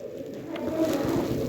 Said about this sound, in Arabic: لقينا فيه مش عارفه ده عصافير ولا ايه بالظبط